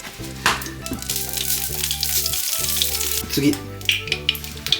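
Tempura sizzles in a pan after a little extra frying oil is added, a bright steady crackle under background music, with a brief spoken word.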